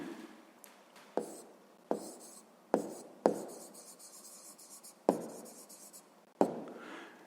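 Pen writing notes on paper for a sixth-grade maths exercise, a series of separate close scratching strokes, each starting sharply and fading, with quiet pauses between.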